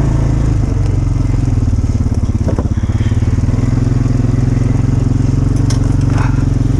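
An old four-wheeler ATV engine idles steadily up close, a loud, low, continuous putter with a faint rattle and no voices.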